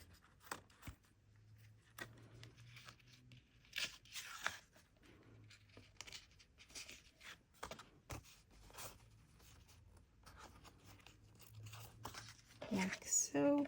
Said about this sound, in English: I like to use my fingers and fold the paper back slightly